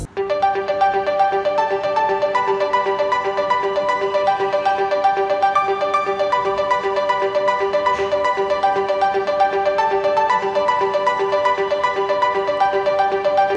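A Samsung Galaxy M31 smartphone startup sound: a bright, steady electronic melody plays continuously and loudly, without a break, for the whole stretch.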